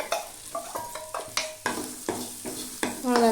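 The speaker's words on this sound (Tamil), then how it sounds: "லைட்டாக ஃப்ரை பண்ணோம்னா போதும்." Beans with asafoetida frying in oil for a beans poriyal, close and clear: spatula scrapes and clanks against the pan in irregular strokes over a light sizzle, growing louder at the end.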